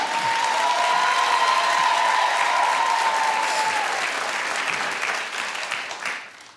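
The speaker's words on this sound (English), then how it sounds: "your audience, why do they clap for every damn thing?" A television studio audience bursts into loud, sustained applause that stays full for several seconds before thinning and fading out toward the end.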